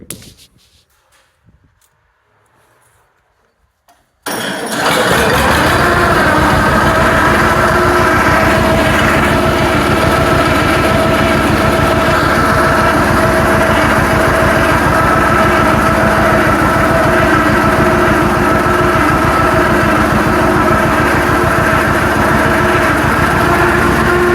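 A John Deere 60 tractor engine with a freshly reassembled starter and covers still off catches after a short quiet moment, then settles into a loud, steady, close idle that runs on alone without talk.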